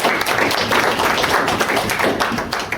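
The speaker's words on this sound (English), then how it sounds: "can we have a round of applause to welcome Paul?" An audience at an electrification community event gives a round of applause to welcome a speaker, a continuous, fairly loud wash of many hands clapping that holds steady for nearly three seconds.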